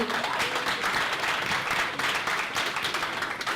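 Audience at a live medieval-themed show breaking into applause, a dense continuous wash of clapping from a crowd lasting the whole stretch.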